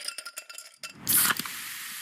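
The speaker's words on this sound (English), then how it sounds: "You hear that? That's the sound of Pepsi Zero Sugar" A can of Pepsi Zero Sugar cola cracks open and fizzes as it pours, a sharp hiss settling into steady bubbling, close and clear after a few light clinks.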